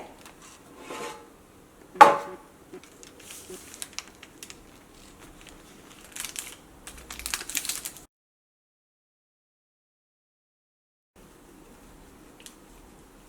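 A knife cuts through a freshly baked banana and egg cake, giving one sharp crunch followed by soft scraping and rubbing strokes, then the sound drops to near silence.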